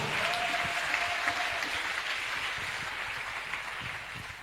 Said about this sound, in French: Offrande d'acclamation.